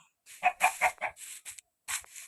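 A few short clucking bursts from Minecraft chickens in quick succession, close and clear, with brief silent gaps between them.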